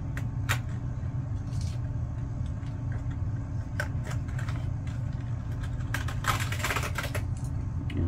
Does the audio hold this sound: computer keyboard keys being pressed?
yes